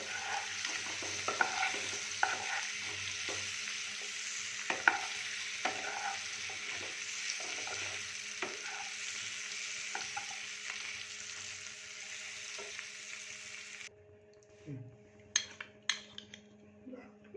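Potatoes with chili powder frying in a pan for achari aloo, a dense steady sizzle with repeated light stirring scrapes, close, ending in a quieter stretch with a few clinks.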